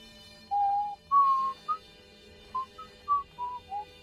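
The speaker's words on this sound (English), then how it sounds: "I probably shouldn't whistle." A person whistles a short, wavering tune of about eight separate notes at moderate loudness, with no talk over it. The whistling comes during a livestreamed session of the video game Outer Wilds.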